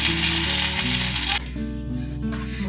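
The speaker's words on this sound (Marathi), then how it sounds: "तर आता दुसऱ्याही बाजूने आपण अशीच फ्राय करून घेणार आहोत" A fish fries on its second side in a pan with a strong, bright sizzle that suddenly drops to a quieter, steady hiss partway through, over a constant low background hum.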